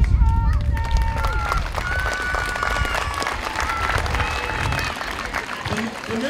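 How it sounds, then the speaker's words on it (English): An audience at youth baseball introductions claps steadily in a sustained round of applause, with crowd noise and a voice over a loudspeaker heard on top. "a good round of applause, please."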